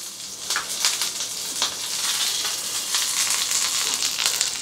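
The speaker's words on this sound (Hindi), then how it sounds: "और ये लगा तड़का।" Hot oil tempering with curry leaves and chillies sizzles loudly and continuously for Odia pakhala rice with curd, crackling close up with no talk.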